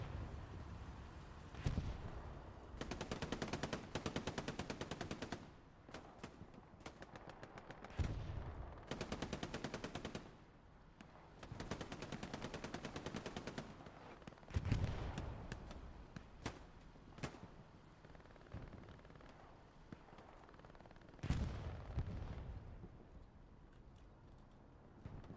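Repeated bursts of heavy automatic gunfire from an aircraft strafing run in the competitive World War II shooter Hell Let Loose, loud and close, broken by booming impacts and gaps between volleys.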